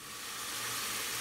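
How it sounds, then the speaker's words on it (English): Onions and bell peppers fry in vegan butter, giving a close, steady sizzling hiss that holds unbroken throughout the brief moment. "And I have the onions and bell peppers frying down here in vegan butter."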